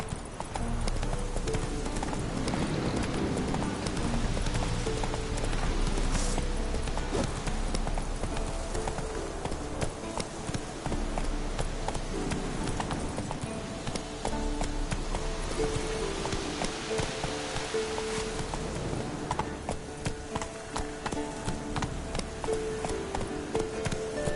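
Steady rhythmic hoofbeats of the horse Roach galloping in The Witcher 3, a continuous clip-clop at a constant pace over a dense background of ambient game sound and music.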